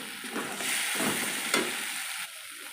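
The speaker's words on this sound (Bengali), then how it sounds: "আর দিয়ে নেব ছোটো চামচের 1/2 চামচ লঙ্কা গুঁড়ো। দিয়ে এটা ভালো করে কষিয়ে নেব।" Turmeric and chili powder sauté in a pan for vegetable khichuri, giving a soft, fairly faint sizzle with gentle stirring that swells and fades, heard alone.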